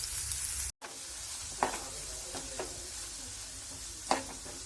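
Onion frying in oil, a quiet steady sizzle broken by a few distinct scrapes and taps of the stirring spoon against the pan.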